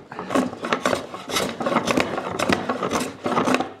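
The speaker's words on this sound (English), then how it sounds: "I've leveled most of it with the hand plane, now taking down all the high spots" Hand plane shaving across the end grain of a maple and walnut butcher-block cutting board, a series of repeated raspy strokes at a steady rhythm, close and fairly loud with no talk.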